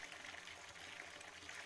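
Faucet water in the horror video game Visage runs as a faint, steady stream with a soft trickling hiss, continuous and uniform at low volume, with no voices.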